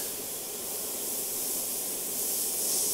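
Steady airbrush spray hissing while painting skulls within fire, a continuous close, even airy hiss with no pauses and no talk.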